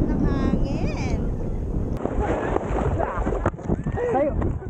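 Wind during tandem paragliding in Binangonan: a constant low roar of air buffeting the microphone, loud and close, with voices talking over it.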